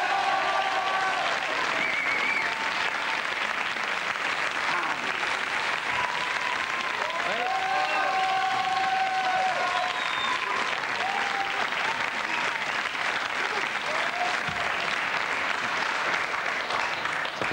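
Sustained applause from a French television studio audience fills the whole stretch, dense steady clapping with crowd murmur and some voices beneath.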